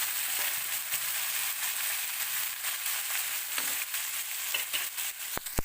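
Chopped tomatoes fry in oil with browned onions and five-spice, giving a continuous close sizzle with light stirring scrapes and a sharp tap near the end.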